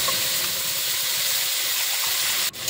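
Onion, ginger, green chili and tomato paste sizzling in a pan with whole cumin in oil, a steady broad hiss of frying that holds evenly throughout, close and moderately loud, with a brief dip near the end.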